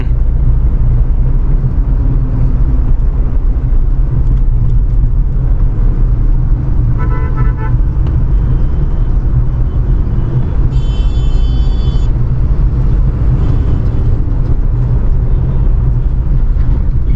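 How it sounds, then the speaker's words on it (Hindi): Steady road traffic rumble heard from inside a Tata Punch on a weekday-busy route between Thane and Andheri, with engine drone throughout, a short honk mid-way and another brief horn toot later. "यार सैटरडे को भी इतना ट्रैफिक"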